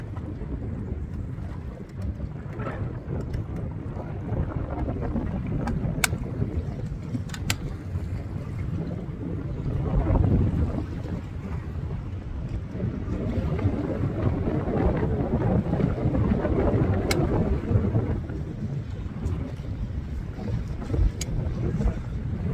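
A boat motor drones steadily at low pitch on a lake while wind buffets the microphone, continuous and loud with no talking.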